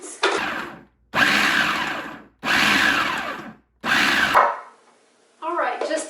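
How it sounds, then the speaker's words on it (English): Food processor pulsing a protein energy bite mixture with a pinch of salt, four loud whirring bursts of about a second each separated by short pauses, followed by a brief clatter. "I'm just going to pulse this real quickly before I add in"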